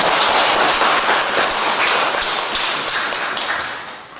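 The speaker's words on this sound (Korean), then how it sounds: "박수 한번 하겠습니다." A congregation at a Sunday church service bursts into brisk, close applause, many hands clapping in a dense patter that gradually fades out near the end.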